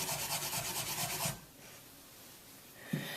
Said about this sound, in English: This will brush away a lot of soft material in a hurry.